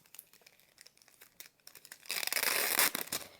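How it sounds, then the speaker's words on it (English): Window tint film has its backing peeled away, starting with soft scattered crinkles and ticks, then building into a louder, continuous crackling tear near the end. No one speaks. "you have to still peel it off like regular tint"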